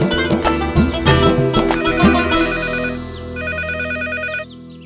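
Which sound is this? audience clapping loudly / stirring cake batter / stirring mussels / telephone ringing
telephone ringing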